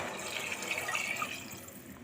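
Water pours into a pressure cooker holding a potato dish cooking in oil, a soft, steady splashing stream that runs for about two seconds with no talking.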